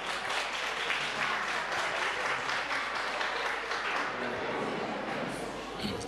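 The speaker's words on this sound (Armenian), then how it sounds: "ձեր բուռն ծափահարությունները" An audience at an awards ceremony claps enthusiastically, filling the clip with continuous, loud applause from a crowd that holds steady to the end.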